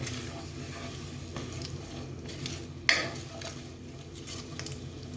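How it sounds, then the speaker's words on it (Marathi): Chopped onions sautéing in a pan for prawn biryani, a soft steady sizzle close by with a few light stirring scrapes and one sharp utensil clink midway, no voices. "आता हा लाल होईपर्यंत परतून घ्यायचे आपल्याला."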